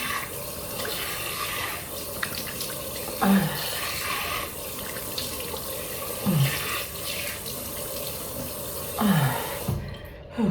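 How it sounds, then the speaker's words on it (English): Warm water runs steadily from a bathroom tap as a face is wetted, with a continuous splashing stream, brief surges of handfuls of water and small drips close by. "let me just wet my face with some warm water, and definitely make sure it's warm."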